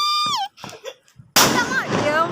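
A Diwali firecracker bursts with a sudden loud sharp crack that decays into a noisy rumble, preceded by a short whistling tone and brief voices.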